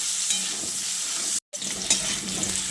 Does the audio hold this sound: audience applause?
no